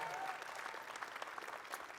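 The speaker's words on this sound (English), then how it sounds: "Would you give them a huge round of applause?" Faint steady applause from a church congregation, a continuous wash of clapping hands at a distance.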